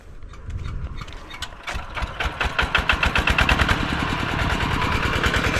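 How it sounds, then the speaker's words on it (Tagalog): A small water pump engine for irrigation starts up and settles into a steady, loud chugging idle with regular rapid thumps, close by. "Paandar na ni parang Carlo yung makina para makapagpatubig ng patola."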